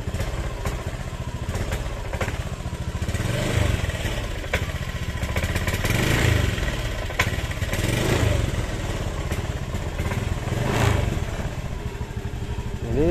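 A Honda Beat K44 scooter engine runs steadily and loud, its throttle blipped in repeated revs over a constant mechanical clatter, with no talking.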